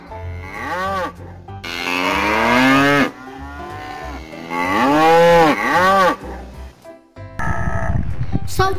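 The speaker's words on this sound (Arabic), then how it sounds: "بقرة. صوت البقرة" Cow mooing in a series of long, loud, drawn-out calls, close and clear, repeated about three times with short gaps, ending in a brief noisy burst.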